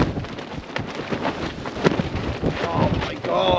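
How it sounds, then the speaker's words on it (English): Strong storm wind gusts against a microphone by the sea at Nell's Point ahead of a storm, with waves rising, giving a continuous roaring buffet with sharper bursts and a faint voice underneath. "That wind's got to be 40 miles an hour at least."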